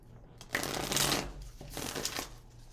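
Tarot cards are shuffled nearby in two bursts of riffling and sliding, a longer one and then a shorter one, with no voice over them.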